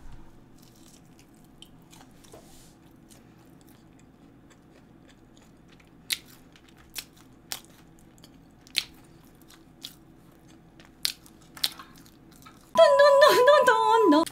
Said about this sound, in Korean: 이거만 먹고 이제 그만 먹도록 하겠습니다